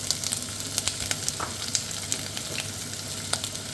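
Onions and garlic frying in a pan for potato and leek soup, a steady close sizzle with scattered crackles and pops and the odd scrape of stirring, no voices.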